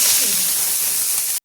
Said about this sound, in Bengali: দিয়ে দিচ্ছি একটু সরষের ফোড়ন, কালো সরষে, দিয়ে দিচ্ছি কারিয়া পাতা